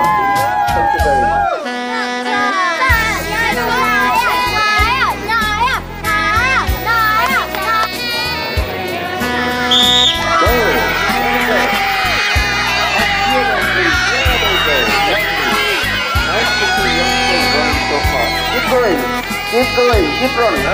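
Crowd cheering and shouting at an outdoor community sports day race, a loud sustained mix of voices and children's calls, with a music-like tonal layer running throughout.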